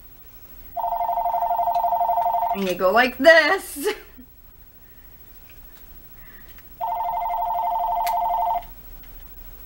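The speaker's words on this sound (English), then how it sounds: "I will just unplug my phone because I'm sick of it ringing" A landline telephone rings in two long steady bursts, one at the start and one near the end, with a person speaking briefly in between; close and clear.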